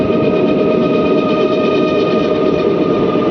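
The Palnadu SF Express runs into Chityala station with a loud, continuous rumble and sustained whining tones from the wheels and motors, with no talk over it.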